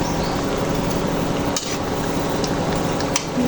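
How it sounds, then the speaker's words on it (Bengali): Potato chops deep-frying in hot oil, giving a steady, dense sizzle and crackle with a couple of brief sharper pops, close and continuous with no talking. "এই যে আলু চপটি ভেজে নিচ্ছি।"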